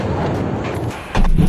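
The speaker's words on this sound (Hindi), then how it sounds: "रूसी सेना यूक्रेन को लगातार धमाकों से दहला रही है।" Russian shelling in Ukraine produces loud, rumbling blasts: a dense, continuous roar that dips briefly and then surges again with a sharp, heavy boom near the end.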